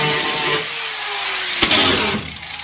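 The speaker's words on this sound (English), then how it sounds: "Just grind that." A grinder works on metal on the boot floor of a Classic Mini during restoration, a harsh high whine that runs steadily close by with a sharp knock partway through before easing off.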